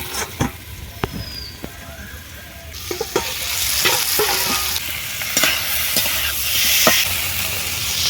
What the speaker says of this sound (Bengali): টমেটোর সঙ্গে খুব সুন্দরভাবে মশলাগুলো কষানো হয়ে গেছে